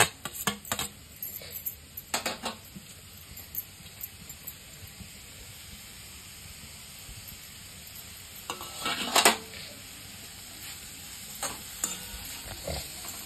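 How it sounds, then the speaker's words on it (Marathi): Grated mango cooking in a kadai, a soft steady sizzle broken by several sharp scrapes and clinks of a spoon stirring against the metal pan, close and fairly quiet, with no talking. "पहिला मी कढईमध्ये आंब्याचा किस टाकून घेते।"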